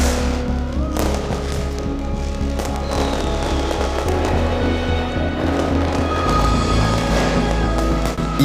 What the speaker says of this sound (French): ils continuent à tirer des pétards.